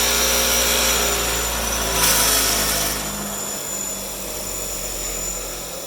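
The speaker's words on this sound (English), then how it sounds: "take it to the wire wheel, which is right over there" A bench wire wheel whirs steadily while cleaning RTV sealant off an oil pan, with a brighter, harsher burst of grinding as the part is pressed against it, then a lower continuous spin.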